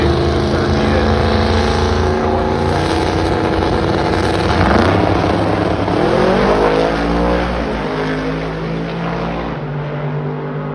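A 1965 Pontiac Tempest making a drag racing run, a loud close engine roar building through rising revs and gear changes, staying strong for several seconds before easing off slightly toward the end.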